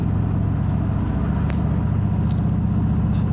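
A Harley-Davidson FXFBS 114 Fat Bob motorcycle rides at low speed, its big engine giving a loud, steady, deep throbbing rumble throughout, with no talk.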